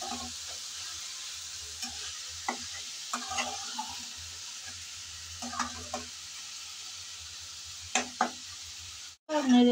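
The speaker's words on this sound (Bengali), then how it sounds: "নেড়ে চেড়ে ভালোভাবে আমি মিশিয়ে নিলাম মশলার সাথে" A potato and carrot fry with spices is stirred in a pan over a low sizzle, with scattered scraping strokes, a sharper clatter near the end and no speech.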